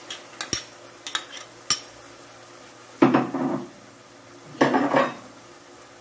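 Chicken and garlic in a pan being stirred, with a few sharp metallic clinks of utensil on pan followed by two longer scraping, sizzling stirring bursts, close and fairly quiet.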